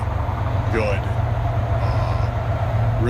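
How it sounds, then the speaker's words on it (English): A loud passing train rumbles continuously with a deep, steady roar near a forest campsite at night while a voice speaks briefly over it. "Sorry for the loud train."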